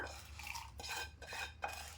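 Rhythmic pounding of tempering seasoning in a stone mortar, several dull knocks at an even pace, close by and fairly quiet.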